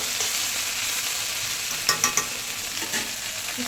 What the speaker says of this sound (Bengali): ভেন্ডিটা ভাজা করে নিচ্ছি